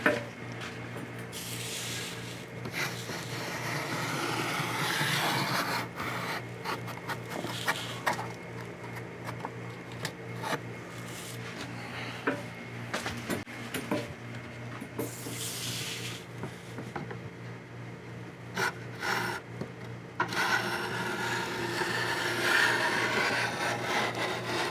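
Excess material is scraped off a model railroad backdrop with repeated rasping, rubbing strokes at close range, irregular and fairly quiet, continuing in bursts with short pauses and no voices.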